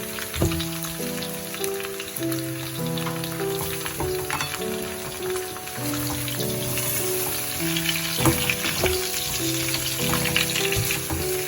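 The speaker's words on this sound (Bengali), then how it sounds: "এটাকে কিছুক্ষণ ভেজে নেব।" Ridge gourd and pointed gourd sizzle and crackle in hot oil in a pan, a steady frying hiss with occasional pops, while quiet music plays underneath.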